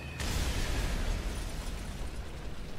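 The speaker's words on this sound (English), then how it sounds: "P-47 trying to rocket me there." A rocket fired from a P-47 fighter explodes in a Normandy battle video game, sounding as a sharp blast that opens into a loud, sustained rumbling roar lasting several seconds, with no talk.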